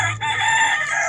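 Spangled and robin-breasted gray chickens on a Georgia farm, with a rooster crowing once in a loud, close, drawn-out call that fills the whole moment, with no talking over it.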